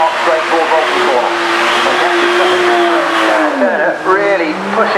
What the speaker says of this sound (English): Squealing the tyres, mowing the lawn in this rapid E, heading up the hill now, up Park straight toward Bolton Corner.